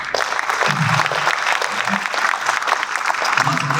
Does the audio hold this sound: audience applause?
yes